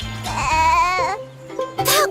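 A baby goat gives a loud, wavering bleat lasting about a second, followed by a shorter second bleat, close up and with no talking over it.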